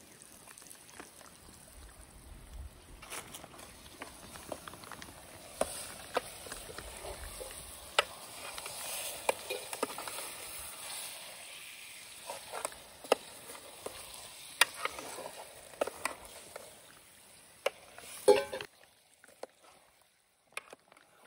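Chicken tempered with spices and fried in a pan during an outdoor Kakankondi trek barbecue: a faint, steady sizzle with scattered crackles and occasional stirring scrapes, continuing for about twenty seconds without speech.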